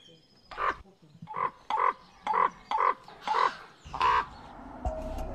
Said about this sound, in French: Dans son laboratoire, Markus Böckle analyse les cris des corbeaux.